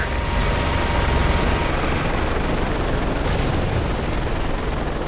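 Helicopter rotors thump loudly and continuously in Call of Duty: Modern Warfare 3, several choppers in the mix with dense combat noise, close and overwhelming with no talking.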